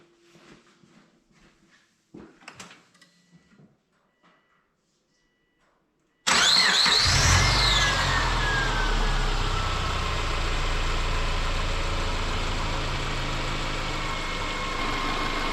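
A few soft clicks and rustles, a pause, then a Subaru's newly swapped JDM EJ25 engine cranks and catches with a loud start and settles into a steady, even idle.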